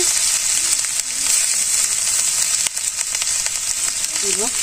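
Cumin seeds and raw garlic sizzle steadily in hot oil, a loud, continuous frying hiss with small crackles running throughout, without speech.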